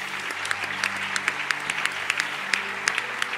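A congregation claps in a church during a deliverance prayer service, steady applause with sharp individual claps standing out above a soft background hum.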